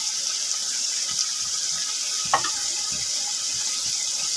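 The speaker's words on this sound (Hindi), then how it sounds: "ये देखिए 1 गिलास भर के मैंने पानी डाल दिया।" A glass of water poured into a cooking pot of spiced koftay, a steady, soft hissing gush of liquid with a single small splash midway, quiet and without talking.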